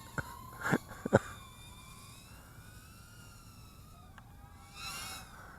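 Fire engine sirens wail faintly in the distance, rising and falling over a quiet outdoor background, with a few sharp knocks near the start.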